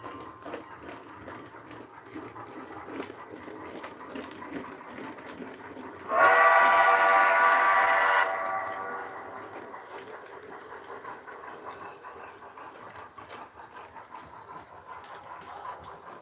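A fireless Heisler model train rumbles along steadily, then sounds a loud, bright steam-style whistle for about two seconds before the running noise carries on alone.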